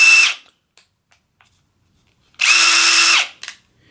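Bosch Freak brushless drill running in two short bursts, forward and then reverse: each is a loud, high motor whine lasting under a second, with quiet clicks between them.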